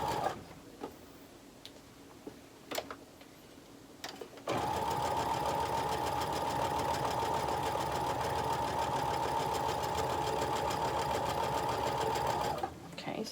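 A sewing machine runs steadily, joining quilt block pieces with a quarter-inch seam. It starts after a few soft handling clicks and hums loud and continuous for about eight seconds before stopping.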